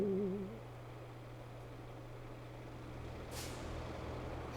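Truck air brake hiss from the video game Roadcraft, a short burst of released air late in the clip over a steady low engine idle, no talk.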